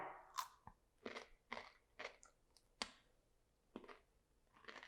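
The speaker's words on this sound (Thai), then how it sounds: "แตงกวาก็กินกัด" Someone takes crisp bites into a fresh cucumber, a series of about eight sharp crunchy snaps spaced roughly half a second apart, close and clear with a quiet background.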